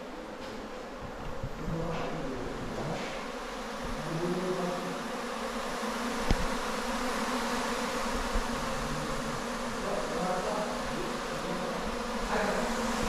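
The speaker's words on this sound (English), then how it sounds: "I want to go, but there's too many bees." Dense swarm of bees buzzing close by during a bee rescue on a farm in Hargeisa, Somaliland, a thick unbroken drone that holds steady throughout.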